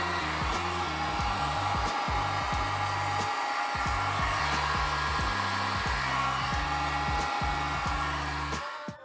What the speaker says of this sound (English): We're going to slowly warm up that shrink wrap until it closes up around the shifter shaft.